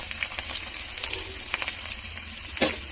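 Cumin, mustard seeds and coarsely crushed garlic sizzle and crackle in hot oil for a tempering, a steady close frying hiss with scattered pops and one louder sputter near the end, no talking.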